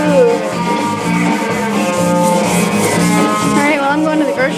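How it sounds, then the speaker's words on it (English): Close, continuous rasping strokes of fine grit sandpaper rubbing back and forth on a surface, loud and rhythmic with no talking. "So what happens when you sand it with fine grit sandpaper?"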